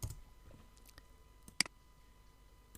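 A single sharp computer keyboard press of the Enter key, one crisp click near the middle against a quiet room.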